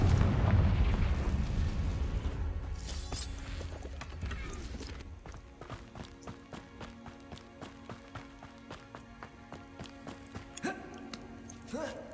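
Bombarda spell explosion in the video game Hogwarts Legacy, a loud, deep booming blast at the start that rumbles and fades, followed by a run of quick rhythmic footstep thuds and light clatter.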